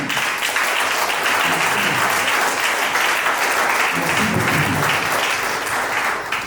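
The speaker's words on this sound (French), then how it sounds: "on va applaudir." Steady, loud applause from a crowd of wedding guests at a civil ceremony, continuous clapping filling the room without pause.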